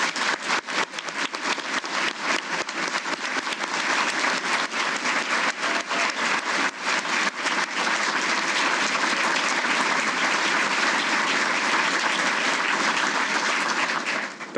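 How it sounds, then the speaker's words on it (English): Sustained applause from a large audience at a military change of responsibility ceremony, dense continuous clapping that holds steady for many seconds before tapering at the end. "a round of applause"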